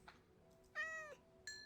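Cat death sound from the Minecraft video game: a short, faint meow-like cry with a falling pitch, followed by a brief second high tone, heard alone without talk.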